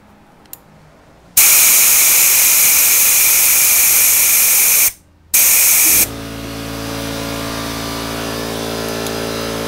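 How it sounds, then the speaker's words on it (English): Compressed air from an air gun blasts loudly through the thermostat hole of an Evinrude 9.9/15 hp outboard, a harsh roaring hiss that cuts out briefly, resumes, then settles into a slightly softer steady rush. "Now you can see I've got my air gun in the P-tube discharge. Now watch what comes out of that thermostat hole."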